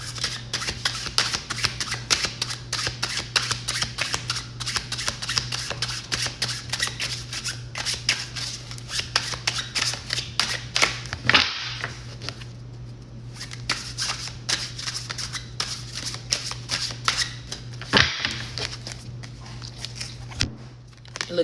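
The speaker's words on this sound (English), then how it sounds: "And y'all seen me shuffle these cards again." Rapid riffling and flicking of playing cards being shuffled, close up, in repeated bursts with a few short pauses and sharp taps.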